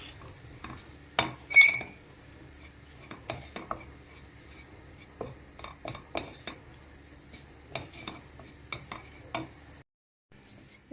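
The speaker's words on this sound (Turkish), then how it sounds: "Bir yemek kaşığı tepeleme unu ilave ettim. Unun kokusu çıkana kadar kavuruyoruz." Heaped spoonful of flour toasting in a soup pot as a spoon stirs and scrapes it, clinking against the metal in scattered strokes over a soft, faint sizzle, with no speech.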